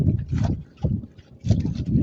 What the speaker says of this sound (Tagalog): Lumakas pa ang hangin.